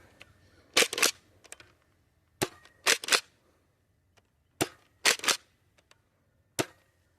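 A Nerf Pro Torrent foam dart blaster fires several sharp pops through cold air, some in quick pairs, separated by quiet pauses with faint background noise.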